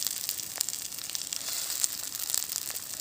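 Fish sizzling in sesame oil over a primitive fire setup, a steady close crackling hiss with scattered sharp pops throughout, no talking.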